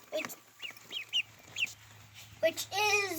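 Young ducklings peep and call in short, high, shrill bursts, close and fairly loud, with a brief louder rasping cry near the end and a low background hum.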